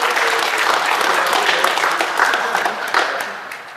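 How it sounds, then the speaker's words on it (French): A group applauds during team selection for a Paris youth football tournament, lively close clapping that stays loud for several seconds before tapering slightly at the end, with a few voices mixed in. "On peut applaudir."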